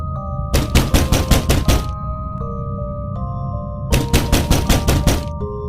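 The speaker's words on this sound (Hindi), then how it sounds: "तभी किसी ने वो दरवाज़ा ज़ोर से खटखटाया।" A loud story sound effect of a door being knocked on hard, played in two bursts of rapid heavy raps separated by a pause, with a low sustained tonal drone underneath.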